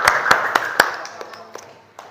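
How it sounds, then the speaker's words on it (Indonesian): A few people clap in a classroom, a short burst of sharp, uneven claps that quickly thins to scattered single claps and fades within about two seconds. "tepuk tangan untuk Fauzia."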